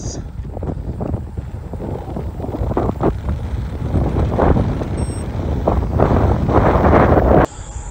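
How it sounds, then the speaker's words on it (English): Wind buffets the microphone on a trail past corn fields, a loud rumbling, gusting roar that builds in strength before cutting off abruptly near the end. "Wind is blowing right in my face."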